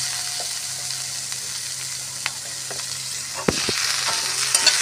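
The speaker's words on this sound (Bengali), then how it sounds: "আদা রসুনটা ভেজে নিচ্ছি। পেঁয়াজও ভাজা হয়ে গেছে" Chopped tomato frying with onion, ginger and garlic in a pan, a steady soft sizzle with occasional scrapes and stirring knocks, no talking.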